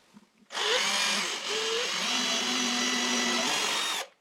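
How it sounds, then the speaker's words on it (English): A power drill whirs steadily at close range for a few seconds while drilling pilot holes for screws, its motor pitch dipping briefly as the bit bites, then stopping abruptly. "I make pilot holes to insert some screws at an angle against the supports."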